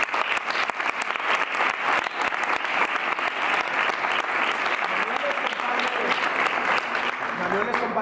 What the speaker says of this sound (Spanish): Un fuerte aplauso para Manuel, por favor.